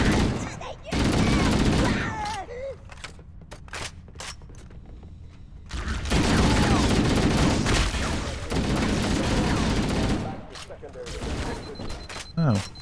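Sustained automatic weapon fire in Halo: Combat Evolved, with long loud bursts of rapid shots separated by short pauses, and game voices speaking in between.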